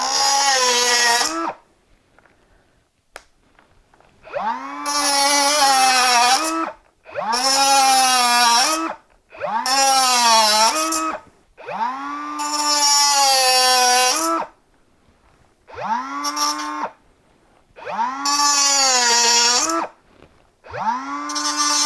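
A Makita 18V compact cutter slices through thin metal in a string of loud, shrill bursts, each a couple of seconds long, its whining pitch sagging under load and rising again between repeated cuts.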